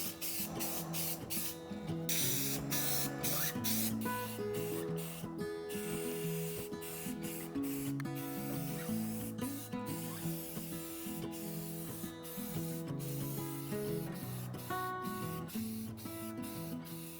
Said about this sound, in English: I also love using a spray can because there is little to no cleanup